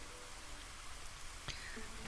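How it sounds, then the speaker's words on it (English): Soft drizzle in the strategy game Against the Storm, a faint, steady hiss of light rain with a brief sharp tick near the end, quiet and continuous with no voices. "So we're in drizzle"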